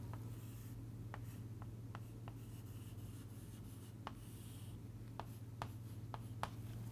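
A pen or marker draws a diagram by hand during a lecture on modelling mechanical systems, giving faint, scattered scratches and taps against a steady low hum, with no talking.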